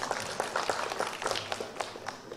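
Audience at an awards ceremony claps, with a dense patter of hands that is moderately loud and steady, fading slightly toward the end.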